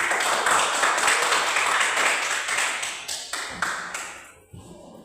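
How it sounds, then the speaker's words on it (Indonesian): A classroom group claps together, dense applause that gradually thins out and fades, ending with a few scattered claps. "Kita sambut kelompok 1 dengan tepuk tangan."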